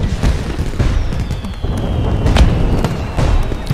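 Thunder booms rumble through a video game scene, deep low rolling blasts with a couple of sharper bursts over a steady noisy ambience, loud and continuous with no speech.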